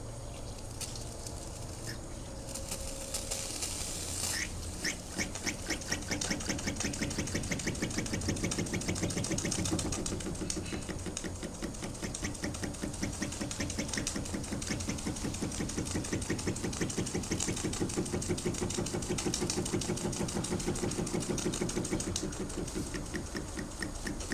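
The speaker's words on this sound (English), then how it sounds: "we'll start off with the oscillating engine or donkey engine" A small model oscillating steam engine, running on 25 psi, chugs steadily at a fast, even rhythm, its mechanical beats running continuously with a faint hiss.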